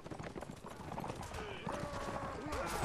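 Horse hooves and neighing in the video game Mount & Blade: faint clip-clop with a whinny toward the end, partly masked by talk and other game noise.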